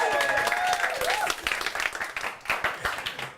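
A studio audience at a green screen talent show gives a short burst of applause, dense clapping with music tones and a voice over it, thinning out toward the end.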